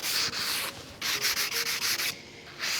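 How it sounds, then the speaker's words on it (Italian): A damp microfiber cloth rubbed over the painted wooden furniture spot to be sanded, giving loud rhythmic rasping strokes in bursts with short pauses, close and alone. "Si passa sul punto che voi dovete carteggiare e poi si fa così."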